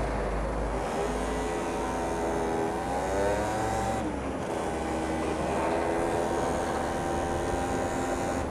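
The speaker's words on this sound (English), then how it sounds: "Did you see the speed of big ass lorry shot past me?" A large lorry speeds past on an open road, a loud rising-and-falling engine and tyre roar that swells, dips briefly, then builds again against steady road noise, with no talk.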